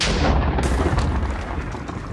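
A cannon fires in Minecraft with Balkon's Weapons Mod, one loud, dense blast that fills the whole clip and rumbles on without a break.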